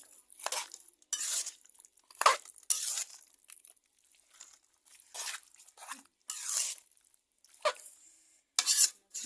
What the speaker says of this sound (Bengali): এবার খুন্তি দিয়ে ভালো করে নাড়ায় দিচ্ছে দেখেন